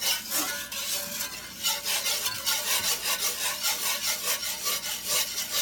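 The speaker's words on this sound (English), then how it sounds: "as you continually whisk it." A whisk scrapes rapidly and rhythmically through a butter and flour gravy in a pan, close, steady strokes repeating several times a second with no talking.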